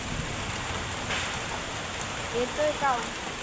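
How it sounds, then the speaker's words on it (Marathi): Steady rain hisses in the background, a dense even patter, with a few brief voiced sounds near the end. "पहिलेच पाऊस येतोय गाईज"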